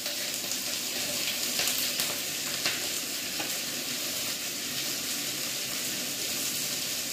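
Carrots and potatoes frying in oil in a pan for semolina upma, a steady close sizzle with occasional stirring scrapes, continuous and fairly loud, no voices.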